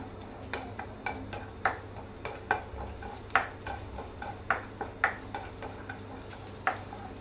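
Two cinnamon sticks and bay leaves fry in hot oil, a soft sizzle punctuated by a regular series of light clicks and pops from the pan, close and fairly quiet.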